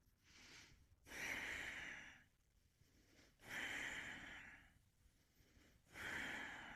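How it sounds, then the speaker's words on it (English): A Pilates instructor exhales audibly through the nose during a Tower/Cadillac workout: three long, breathy nasal exhalations, each lasting about a second, close and fairly loud, separated by quieter pauses with no speech. "Still nose breathing out through the nose."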